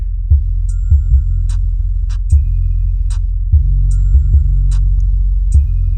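A $100 Amazon under-seat subwoofer playing the bass line of Space Age Hustle, heavy booming low thumps in an uneven rhythm over a constant deep rumble, with faint ticking highs above, loud and close with no talking.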